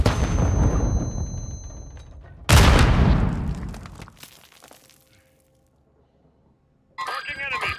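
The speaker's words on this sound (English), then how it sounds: "Stun grenade!" A stun grenade goes off in Call of Duty, a sudden loud broadband blast cutting through ongoing gunfire, ringing briefly before the game falls nearly silent, then noise returns at the end.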